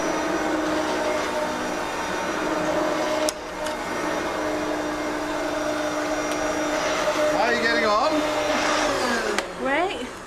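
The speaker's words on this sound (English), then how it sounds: "I think he likes the sound of the vacuum cleaner." A household vacuum cleaner runs steadily with a droning whine, close and continuous, briefly dipping in pitch a few times as it is moved around.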